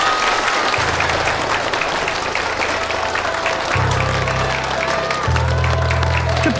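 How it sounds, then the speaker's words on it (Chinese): An audience claps loudly and continuously to welcome the referee of a match, steady applause filling the room with a low musical tone droning beneath it. "大家掌声欢迎。"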